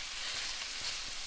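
Onion, fennel and hot pepper flakes sautéing together in a pan, a dense, even sizzle with faint stirring, close and steady throughout.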